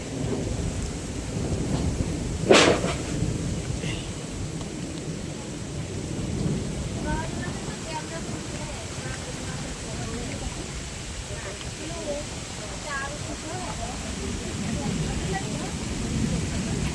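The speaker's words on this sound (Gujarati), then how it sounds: "વરસાદના વાવાઝોડું ચાલુ થયું છે ફૂલ" Heavy rain falls steadily at night in a storm while a sharp crack of thunder breaks early on, followed by low rumbling and faint voices in the background.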